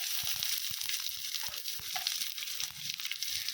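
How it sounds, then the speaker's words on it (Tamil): Steady sizzling of onions frying in a hot pan, with a few soft stirring clicks and scrapes, continuous and close. "இப்போ இந்த ஆனியன் இந்த வெங்காயம் வந்து கோல்டன் ப்ரௌன் ஆற வரைக்கும் நல்லா வதக்கணும்."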